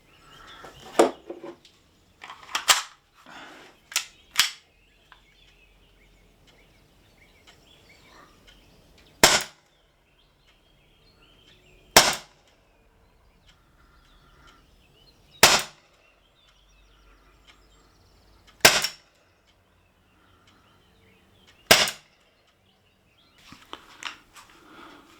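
Umarex Smith & Wesson M&P 2.0 air pistol fired through a chronograph, about five sharp, loud single shots spaced a few seconds apart, with some clicks and handling noise at the start and end.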